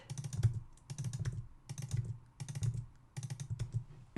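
JavaScript code is typed on a computer keyboard in quick clustered bursts of close, crisp keystrokes, separated by short pauses, with no talking.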